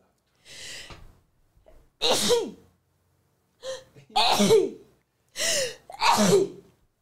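A person sneezes several times in a row, each sharp burst preceded by a quick gasping intake of breath, loud and close with brief silences between.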